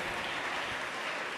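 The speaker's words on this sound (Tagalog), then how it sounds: "Sa malakas na palakpak para sa mahal na Panginoon." A church congregation claps loudly in a dense, sustained burst of applause, with no voices heard over it.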